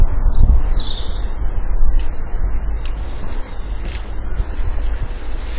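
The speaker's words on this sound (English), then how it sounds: "And you can hear the birds singing quite nicely." Faint birds chirp and tweet intermittently in the distance over steady low outdoor rumble and wind, with no one speaking.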